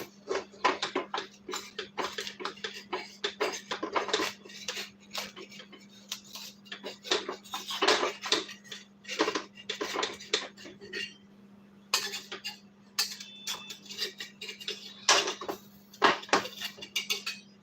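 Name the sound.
sharp spatula scraping a kadhai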